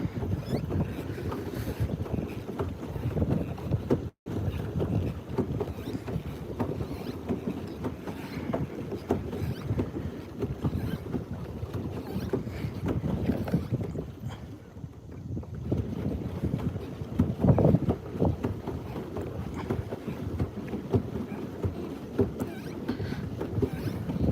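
A kayak is paddled fast across a pond during bass fishing, with continuous water rushing and paddle churn mixed with steady wind buffeting on the microphone throughout.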